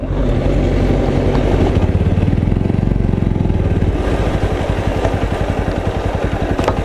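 A Bajaj Pulsar NS125 BS6 motorcycle being ridden on a road, its engine a steady, close, loud mid-pitched drone with a rhythmic pulsing beat and some mechanical clatter, no talking over it.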